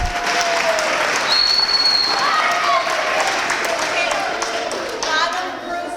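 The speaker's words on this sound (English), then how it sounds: "Give them a big round of applause" A school assembly audience applauds 3rd, 4th and 5th graders at an awards event, loud continuous clapping filling the room with a few whistles and cheers over it, tapering slightly at the close.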